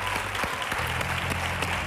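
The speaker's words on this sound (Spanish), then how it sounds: "cruza la pasarela, por favor, con este fortísimo aplauso" Audience applause on a Spanish copla television show as someone crosses the stage walkway, a thick, sustained patter of many hands with music or a low hum faintly underneath.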